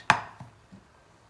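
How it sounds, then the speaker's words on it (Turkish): A knife strikes a cutting board while ingredients are chopped for Turkish pan-fried liver: one loud sharp chop followed by two softer thuds, close and alone in a quiet kitchen. "Bu arada ben diğer malzemelerimi doğramaya devam ediyorum."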